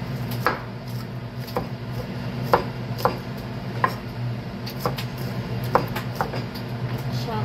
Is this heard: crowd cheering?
no